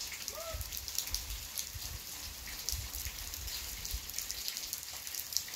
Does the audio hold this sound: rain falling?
yes